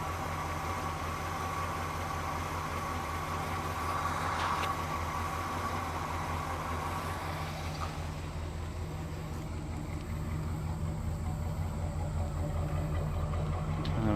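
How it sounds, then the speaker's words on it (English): A 1970 Chevrolet Caprice with a 454 V8 idles steadily, its exhaust giving a low, continuous burble that holds even and close throughout, with no talk over it. "Listen to that burble."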